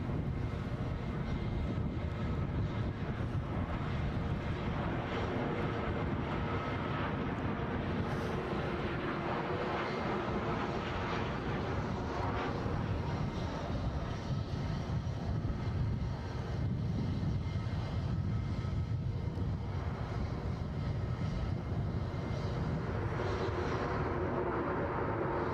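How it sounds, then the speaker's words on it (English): A British Airways jet departs Edinburgh airport for Heathrow, its engine roar a steady, broad rumble sustained throughout at close range, with no talking. "So the British Airways Heathrow departure"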